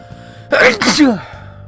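A single loud, close human sneeze with a quick breathy intake and an explosive burst, set against a faint steady background hum.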